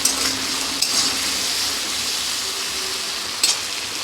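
Chili sauce going into a hot pan of frying broccoli, a bright steady sizzle with a few sharp bursts and light stirring clatter, close and alone.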